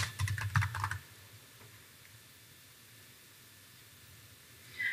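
Quick burst of keystrokes on a computer keyboard while entering an accounting category name, a rapid clatter of close, crisp taps lasting about a second, then near-silent room hiss.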